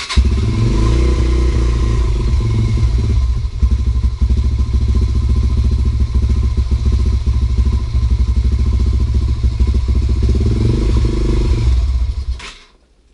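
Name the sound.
Derbi 125 motorcycle engine idling low with choke on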